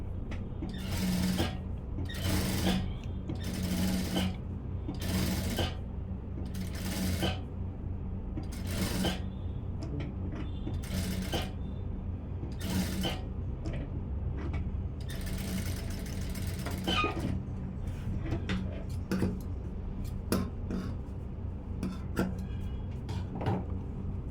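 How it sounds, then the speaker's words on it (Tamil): A sewing machine sews along the front edge of a blouse in repeated short bursts of stitching over a steady low background hum, close and moderately loud. "இதுக்கும் ஓரமாக தையல் போட்டுடலாம்"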